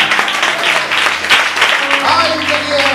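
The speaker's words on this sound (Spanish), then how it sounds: "Ofrece otro aplauso al Señor." Applause in a church service, a congregation clapping steadily and briskly for a few seconds with voices heard over it.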